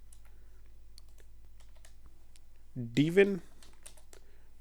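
Light computer keyboard typing clicks along steadily in a quiet room, with a short spoken word breaking in partway through.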